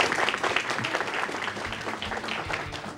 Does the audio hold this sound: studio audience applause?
yes